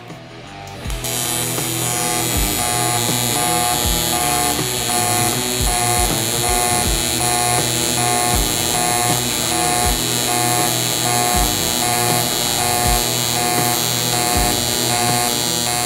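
Pulse TIG welding at roughly 1.2 pulses per second, a loud close crackling arc hum that runs continuously after a brief start, with a faint rhythmic pulsing and no speech.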